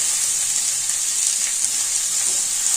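A steady, loud sizzle of cabbage stir-frying in a hot pan without added water, continuous and close with no voices.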